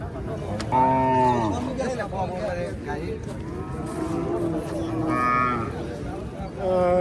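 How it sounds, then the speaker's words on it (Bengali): A young native desi cow moos loudly nearby, low drawn-out calls repeating a few times, with people talking in the background. "জুয়ান গরু দেশি গাই"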